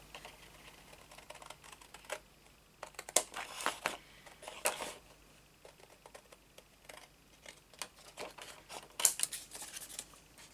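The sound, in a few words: scissors cutting paper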